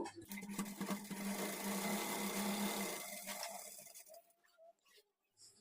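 Sewing machine stitching the front panel of a blouse, a steady loud whirring hum for about four seconds before slowing and stopping, followed by quieter clicks and handling of fabric.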